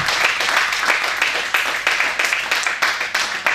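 A church congregation applauds loudly during a worship service, dense sustained clapping from many hands filling the room with a few sharper bursts, no speech over it.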